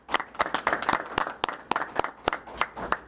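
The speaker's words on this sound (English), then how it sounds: "Let's give her a round of applause." Audience at an annual meeting applauding, a moderate round of scattered claps from a small crowd, steady and fairly close for several seconds.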